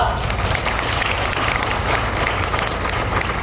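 Dense crowd applause at a political speech event in Jat holds steady throughout, many hands clapping loudly and continuously.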